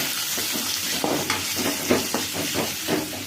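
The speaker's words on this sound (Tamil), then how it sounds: "வெங்காயம் தக்காளி பழம் அரிஞ்சு வச்சிருக்கு கொத்தமல்லி அரிஞ்சு வச்சிருக்கு அது ஒரு வதக்கு வதக்குறோம்" Onion, tomato and coriander sautéing in a pan for a chicken masala, a continuous hissing sizzle with small stirring bursts, close up and free of speech.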